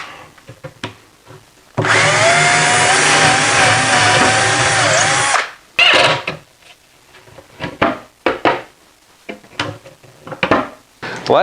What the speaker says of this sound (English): Now I can drill for the screws.